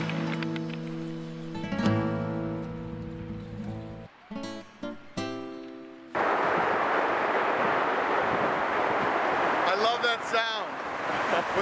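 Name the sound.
ocean waves retreating over small beach rocks in Peru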